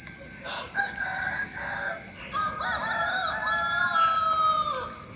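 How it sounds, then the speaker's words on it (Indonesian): Several roosters crow at midnight, overlapping drawn-out calls from more than one bird at moderate distance, with a steady high insect-like whine behind them. "Tapi serius banyak ayam berkokok. Ini padahal tengah malam ya."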